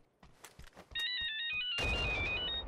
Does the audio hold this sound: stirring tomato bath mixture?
no